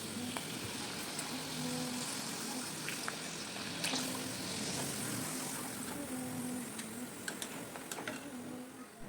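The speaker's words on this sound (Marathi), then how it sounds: "अजूनही दोन ते तीन पापड इथे मी तुम्हाला तळूनच दाखवते" Soft bubbling and crackling of oil as poha papad deep fries, with occasional ticks and light clinks, fairly quiet and continuous.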